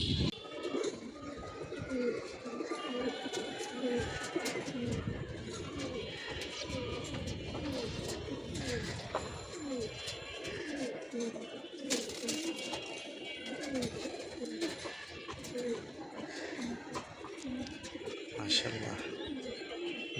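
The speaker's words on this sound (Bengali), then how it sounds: "আমাদের জনিও কবুতর উড়াচ্ছে" Pigeons coo repeatedly in soft, throaty bursts, several birds at once, with voices talking and background bustle mixed in.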